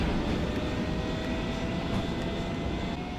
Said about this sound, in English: Man, that was like an actual sonic boom from a jet taking off.